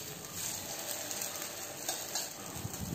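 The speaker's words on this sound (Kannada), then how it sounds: "5 ನಿಮಿಷ ಆದಮೇಲೆ ಕಾವಲಿಗೆ ಎಣ್ಣೆ ಹಾಕಿ ಅಪ್ಪವನ್ನು ಮಾಡ್ತಾಯಿದ್ದೀನಿ" Wheat appa batter sizzles in oil on a hot griddle, a steady broadband frying hiss that runs close and continuous throughout, with a few faint scrapes and clinks on top.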